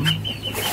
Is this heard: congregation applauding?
no